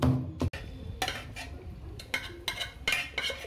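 Green chillies and tomato pieces being pounded in a stone mortar, a series of sharp grinding knocks and scraping thuds in an irregular rhythm, close and moderately loud.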